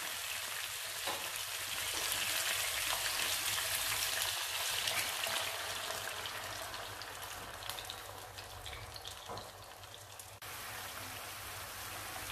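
Wine poured over browned meat in a hot pan sets off a dense, continuous hiss and crackle that holds steady and close, fading slightly toward the end.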